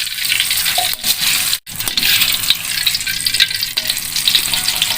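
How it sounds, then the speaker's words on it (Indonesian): Red bird's eye chilies frying in hot oil, a loud continuous close sizzle with stirring clinks and one brief sharp dip, no talking. "Cabainya kita goreng ya guys."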